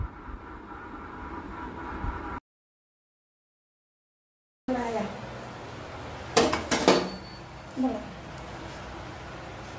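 Pork hits a hot, oil-free wok to dry-fry, giving a few sharp metallic clatters and scrapes over a steady kitchen hiss, with a brief silent gap before.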